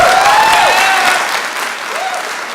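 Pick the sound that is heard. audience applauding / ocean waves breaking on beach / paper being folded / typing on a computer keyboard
audience applauding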